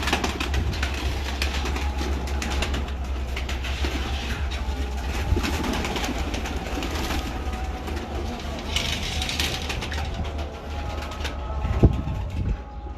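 Pet flying pigeons on a rooftop in Rawalpindi coo softly amid constant outdoor background hum, with occasional faint bird calls and distant noise throughout.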